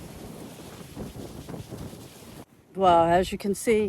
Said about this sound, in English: yeah, it is pretty windy